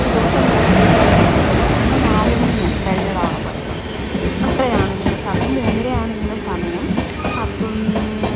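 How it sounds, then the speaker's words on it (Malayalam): The cabin of a moving Tirupati Express air-conditioned coach carries a constant loud rumble and rattle of wheels on track, with faint voices talking underneath. "അങ്ങനെ ഞങ്ങൾ ഇതാ ട്രെയിനിൻ്റെ ഉള്ളിൽ കയറി"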